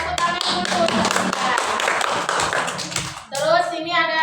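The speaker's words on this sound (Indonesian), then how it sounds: "Dan tepuk tangan dulu" Schoolchildren in a classroom clap their hands together in a quick, lively burst lasting about three seconds, then a voice speaks right after.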